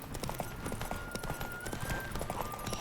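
A horse in The Witcher 3 gallops at speed, its hoofbeats rapid and rhythmic over a steady rumble of movement, loud and close throughout.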